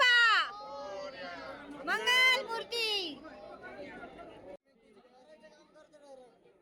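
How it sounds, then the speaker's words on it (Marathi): A busy night crowd gathered to buy Ganesh idols, with overlapping chatter and voices near and around, a child's cry rising briefly, then a quieter murmur of distant talk. "खूप गर्दी आहे ते बघा केवढी गर्दी आहे गणपती घ्यायला"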